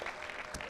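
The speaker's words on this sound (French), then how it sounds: "je vais vous demander, s'il vous plaît, d'applaudir Clément Grobotec." An audience at a film masterclass applauds a performer who has just been introduced. The clapping is faint and distant but steady, with a brief louder clap near the end.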